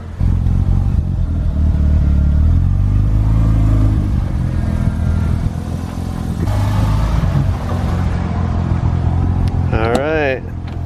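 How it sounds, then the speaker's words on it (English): A Mazda RX-7 FD rumbles out of a garage with a loud, low idle and throttle blips, and a person talks over the engine throughout. "RX7 FD coming out the garage"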